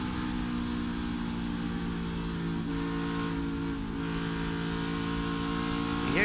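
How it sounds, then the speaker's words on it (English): A NASCAR Xfinity Series race car at Kansas Speedway goes to the throttle, its engine holding a steady loud drone with layered harmonic tones that swell slightly near the end, with no talk over it. "You hear him go to the throttle,"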